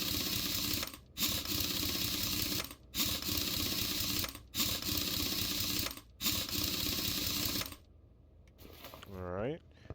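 Car Mechanic Simulator wheel being fitted, heard as a steady mechanical whirring drone in repeated bursts, each broken off by a short gap, fading out toward the end under a rising electronic tone.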